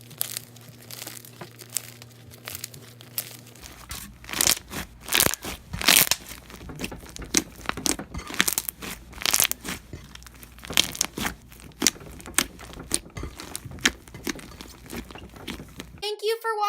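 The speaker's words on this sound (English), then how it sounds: "So it's the crunchiest slime that I have" A 24-ounce crunchy bubblegum slime studded with foam pieces is squeezed and pressed, giving dense crackling and popping crunches in irregular bursts, close and fairly quiet, after a low hum at the start.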